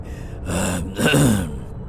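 Two heavy, raspy breathy bursts close together, like strained coughing or gasping, loud and near.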